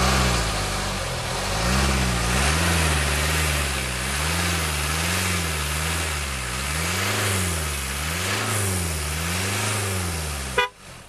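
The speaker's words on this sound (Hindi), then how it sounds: "अब गाड़ी का सेल्फ मार के आपको इंजन की साउंड सुनाता हूँ।" A Range Rover Evoque with all-wheel drive and a nine-speed automatic starts up and settles into a steady idle, the low engine note rising and falling gently, heard close and alone before a short click at the end.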